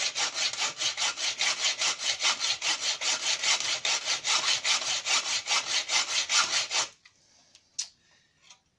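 A hand saw cuts a part off a Mini R50 car with rapid, steady back-and-forth rasping strokes, loud and close. About seven seconds of continuous sawing end abruptly, followed by a few faint taps in near silence.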